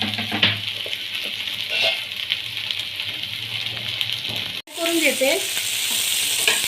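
Capsicum frying and being stirred in a pan for a paneer and capsicum dish, with a steady loud sizzle throughout, a brief drop near the end, then renewed scraping and stirring sizzle; a short bit of speech is heard.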